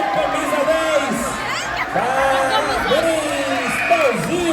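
A crowd cheers and whoops at the finish of a boys' under-8 children's running race in Currais Novos, Brazil, with an amplified announcer's voice talking over the cheering throughout.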